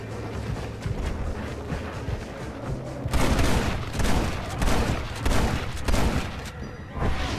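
Gunfire in the video game Red Dead Redemption: a rumbling stretch of distant booms gives way to a dense run of close, loud shots in uneven bursts over a continuous noisy background.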